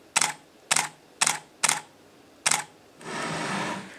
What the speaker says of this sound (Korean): 먼저 ODS를 그냥 미러를 렌즈를 제거한 상태에서 한번 셔터를 눌러보겠습니다.